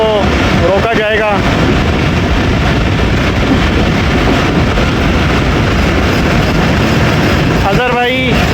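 Baba Fareed Express train on the main line at Walton near Lahore, a loud continuous rumble with heavy wind buffeting the microphone and brief squealing tones near the start and end.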